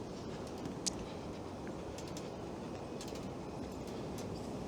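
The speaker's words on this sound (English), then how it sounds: "we got another GO train rolling in, but we're gonna miss it" A GO commuter train rolls into a downtown Toronto station, a low steady rumble with faint rail clicks and a brief squeal, heard at a distance under city ambience.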